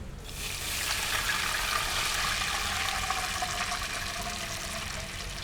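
About 750 ml of water being poured into a pot for baby corn biryani, a continuous close pouring and trickling that starts after a brief pause and runs steadily to the end.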